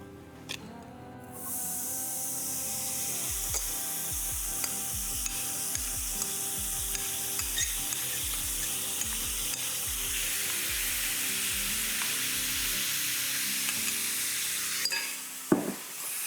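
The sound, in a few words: onion and hot smoked salmon sizzling in hot pan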